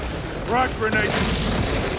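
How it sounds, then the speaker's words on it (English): A frag grenade blows up with a deep boom in the Warhammer 40,000 shooter Space Marine 2, close and heavy against constant battle noise, with a shouted voice overlapping. "Frag grenade!"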